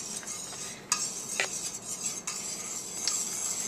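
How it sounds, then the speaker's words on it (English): A whisk scrapes and taps around a bowl as cornstarch is beaten into a Lebanese custard-like dessert mixture, with steady swishing strokes and a few sharper metallic clinks, close and alone. "you want to slowly and vigorously stir when you're adding the cornstarch"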